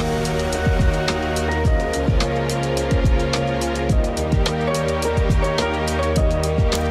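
A remix of the Supernatural theme plays from an Ableton session, with steady beats over sustained, dense synth layers that hold an even loudness throughout, with no talking.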